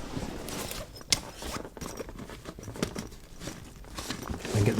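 Zipper closing on a soft travel guitar bag, brief rasping pulls mixed with fabric rustle and crinkling, close and fairly quiet with no speech.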